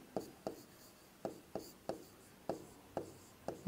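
Chalk or marker strokes on a board during a Sanskrit lesson, a series of about nine sharp, evenly spaced taps and short scratches, close and clear with no talking.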